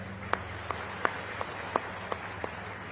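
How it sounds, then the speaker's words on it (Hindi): Scattered, sparse hand claps from an audience at a mega medical camp inauguration in Una, Himachal, greeting guests on stage: about seven separate claps spaced roughly evenly over a few seconds, fairly faint over a low steady hum. "मंच पर सारे हमारे अतिथि आए, इनके लिए जोरदार तालियां।"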